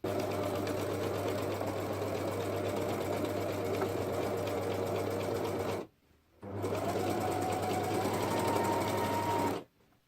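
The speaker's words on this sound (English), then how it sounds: "Use a small stitch length because this is a curved edge." A sewing machine sews the curved edge of a clutch purse lining with a small stitch length. It makes a steady, close mechanical whir that stops briefly around the middle and again at the very end.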